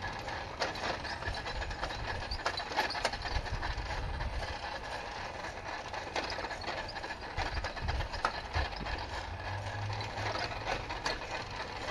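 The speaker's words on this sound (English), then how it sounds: "Until I come rolling along and kick over this engine." The small engine of the Lil' Red Devil runs in a quiet neighborhood, a steady rapid ticking and clattering chug that stays even throughout, with a brief low swell near the end.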